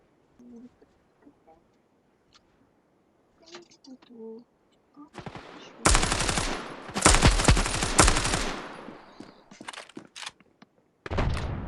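Gunfire in a competitive tactical shooter match, sharp bursts of rapid automatic fire clustered in the second half, alternating with players' excited talk and short gaps.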